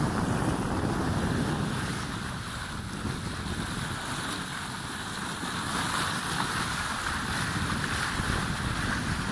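A sailboat under way on the sea off Finland, with a steady rush of wind and waves washing against the hull throughout and no talk.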